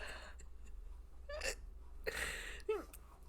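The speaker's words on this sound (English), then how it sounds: "I have hiccups." A woman's hiccups, three sharp voiced hics spaced about half a second to a second apart, close and fairly quiet in a hushed room with faint background hum.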